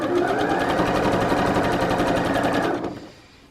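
A sewing machine runs a narrow seam along quilt-as-you-go fabric scraps, a fast, even mechanical chatter of stitches that holds steady for a few seconds and then winds down to a stop.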